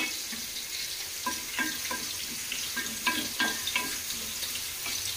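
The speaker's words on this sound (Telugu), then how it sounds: "ఒక పక్క అది, ఒక పక్క ఇది, 2 కూడా ఫ్రై అయిపోతున్నాయి." Onions and other ingredients for chicken pulao sizzle steadily in a pan, with a continuous hiss broken by several clinking stirs of a spoon against the metal; no one speaks.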